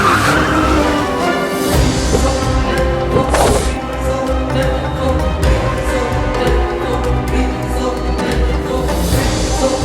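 A car on the road runs loudly, then brakes to a stop with skidding, tire noise and engine hum throughout.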